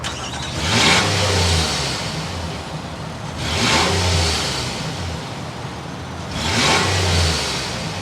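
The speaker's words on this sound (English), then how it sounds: "Let's start it up so we hear what that Pathfinder's about." A 3.5-liter V6 engine in a 2023 Nissan Pathfinder Platinum SUV turning over and revving three times in slow, even swells, close and fairly loud, idling between each rev.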